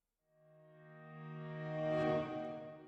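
A reversed musical chord sample in a beat production, swelling steadily louder from silence, then cutting off abruptly near the end, giving a sucking, backwards build-up.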